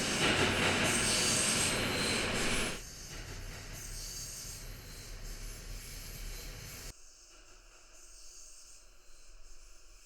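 Rumbling subway car noise, loud and broadband at first, then abruptly reduced in two steps as AirPods Pro 2 and AirPods 4 noise cancellation is simulated, leaving a quieter muffled hum.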